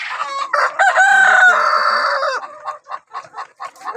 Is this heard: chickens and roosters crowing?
yes